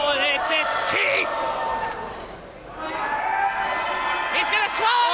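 A loud wrestling arena crowd at a Halloween show cheers and chants in rising and falling waves, with whoops and shouts that swell again after a brief lull, under a commentator's voice.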